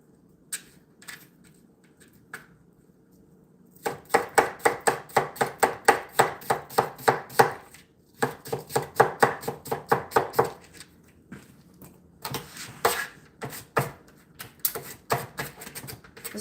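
A knife chops an onion on a cutting board in quick, steady bursts of crisp knocks, pausing between runs, close and fairly quiet.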